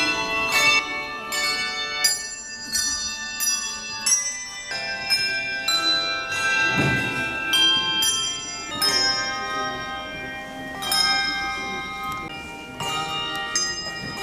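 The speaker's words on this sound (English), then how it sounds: "We're learning bells and we're going to perform them, and every class has a different song." A school class plays a song on bells at a December school performance, with bright ringing strikes in a steady melodic rhythm that carries on throughout, loud and near, with no talking.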